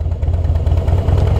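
A Harley-Davidson tilting three-wheel motorcycle idles close by, its engine giving a steady, low, pulsing throb with a faint mechanical clatter and no talk over it.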